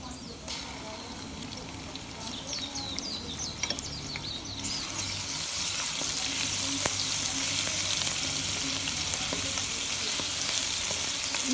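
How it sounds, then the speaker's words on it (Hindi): Ginger garlic paste sizzling and frying in a pan while cooking chana dal, a steady crackling hiss that grows louder and denser partway through, with occasional stirring clinks. "इसमें अब अदरक लहसुन का पेस्ट डालूंगी मैं।"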